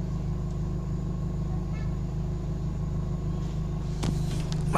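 A Toyota Corolla engine idles steadily during an oil flush, a constant low rumble with a harmonic hum throughout, plus a few brief knocks and clatters near the end.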